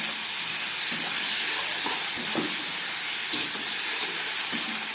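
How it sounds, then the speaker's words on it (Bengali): Tomato paste frying in a pan during the cooking of a vegetarian data and paneer dish, giving a steady close sizzle and hiss with a few soft clicks of stirring, no voices. "আবার একটু ভেজে নিচ্ছি।"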